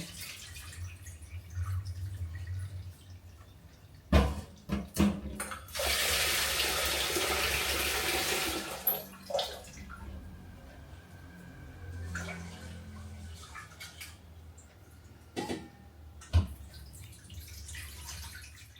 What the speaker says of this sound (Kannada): ಇದು ಅನ್ನ ಮಾಡೋದಕ್ಕೆ ಅಂತೇಳಿ ಅಕ್ಕಿ ತುಳಿತಾ ಇದ್ದಾರೆ